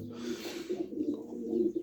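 Pigeons coo repeatedly in a coop, a soft rolling series of low calls close by, with no voices.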